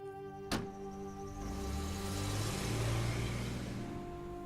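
Cars on the road on a long family drive from Savannah: a sharp click at the start, then a steady engine drone and road rumble that swells slightly as the vehicle pulls along.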